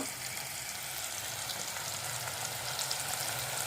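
Masala spices sizzle steadily in a hot pan while wet cashew usal is cooked in a Konkan kitchen, a dense, even frying hiss with no speech over it.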